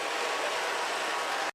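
A train rolls past at a steam railroading museum, a brief, dense, loud rushing rumble that cuts off abruptly.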